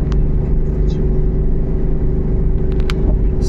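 A Suzuki DA64W climbs a steep hill in second gear, its engine held near 3,000 RPM with a loud, steady droning rumble from inside the cabin, brief voices heard over it.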